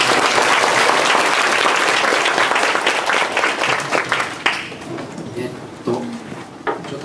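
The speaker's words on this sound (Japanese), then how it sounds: "もう一度拍手をお願いいたします。" A lecture audience at a Python study meetup applauds, dense steady clapping for about four seconds that thins out into a few scattered claps.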